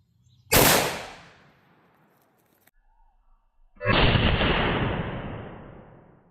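Two loud .357 Magnum shots, CCI Blazer 158-grain jacketed hollow points fired into ballistic gel: a sharp crack that rings and decays over about two seconds, then a second heavy blast after a quiet gap, booming and echoing out.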